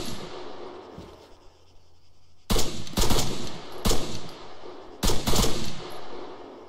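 Bursts of rapid video game gunfire, including machine-gun fire, in a tactical military shooter, starting after a quiet stretch and coming in several loud, close volleys with short gaps between them.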